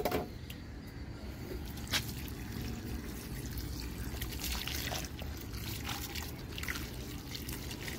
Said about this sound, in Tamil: தண்ணி விட்டுறலாம்.